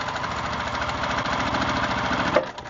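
A sewing machine stitching quilt fabric runs steadily and close by with a fast, even mechanical whir that slows at the end.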